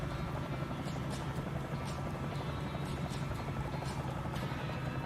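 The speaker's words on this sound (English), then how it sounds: "Maybe I need to fly a different helicopter." A helicopter in Microsoft Flight Simulator flying steadily, its rotor drone and engine hum constant and loud throughout, with no talk over it.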